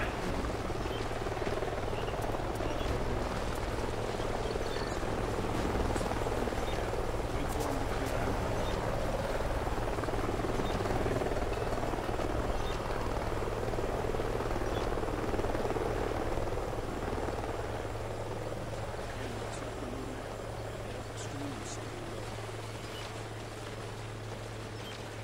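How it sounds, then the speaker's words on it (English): A helicopter in Call of Duty: Ghosts holds a steady, loud rotor drone and deep engine hum for the whole stretch, hovering nearby over a river canyon and easing slightly toward the end. "Sounds like a chopper's up ahead of us."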